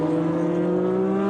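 A Lister Storm GT1 race car with a Jaguar engine at the 1995 24 Hours of Le Mans gives a loud, close, steady engine howl with a slowly rising pitch and no voices.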